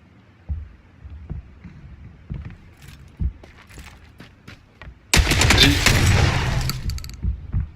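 Gunfire in a video game: a dense, loud burst of rapid shots lasting about two seconds, preceded by scattered faint clicks and thuds.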